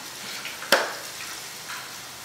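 Tofu frying in a pan gives a steady, hissing sizzle with one sharp pop or clatter partway through, close and fairly quiet.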